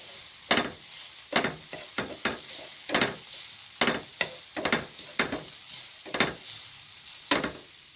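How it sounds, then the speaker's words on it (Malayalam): Masala frying in oil left over from frying mackerel, stirred with sharp repeated scraping strokes over a constant close sizzle, about a dozen spoon scrapes in an irregular rhythm. "വറുത്ത മീനിൻ്റെ എണ്ണ വെച്ചിട്ട് നമ്മളൊരു മസാല ഉണ്ടാക്കിയതാണ്"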